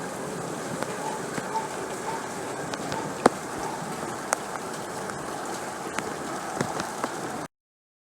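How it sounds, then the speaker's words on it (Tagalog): Heavy monsoon rain pours down during flooding, a continuous dense hiss dotted with sharp drip and splash ticks, heard alone at moderate level. "Sana wag na lumakas ang ulan."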